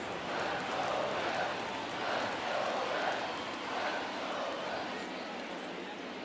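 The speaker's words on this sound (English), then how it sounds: "Crowd's getting into it now." A 1964 baseball crowd at a Cincinnati Reds versus Houston Colt .45's game murmurs and swells in distant waves beneath the steady talk of a broadcaster.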